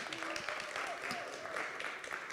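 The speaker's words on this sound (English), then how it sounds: "big round of applause here" A startup showcase audience gives brief, moderate applause, a steady patter of many hands with a voice speaking over it.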